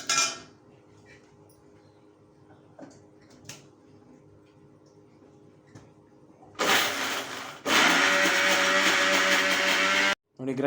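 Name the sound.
mixer grinder grinding fried urad dal and leaves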